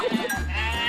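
Sheep bleating among photovoltaic panels in Xinjiang, a single drawn-out nasal bleat at close range that holds steady through the second half, with softer rustling and bleating before it.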